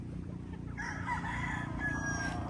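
Gray pullets cluck and crow at a farm, a rooster-like call rising over a steady low background hum, with the birds fairly close and no talk.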